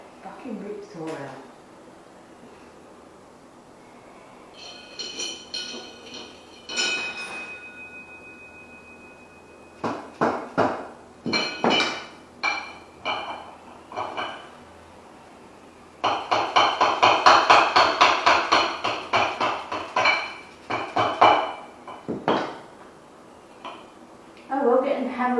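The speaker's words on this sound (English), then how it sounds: "it's not a hammer, it's just a soft mallet" Several rounds of dull, rhythmic knocking from a soft mallet during a 1974 Ossa motorcycle restoration, struck in bursts with pauses, mixed with clinking metal and a faint tone.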